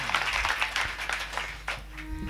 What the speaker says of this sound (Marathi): म्हणून यांच्यासाठी एकदा जोरदार टाळी वाजवा.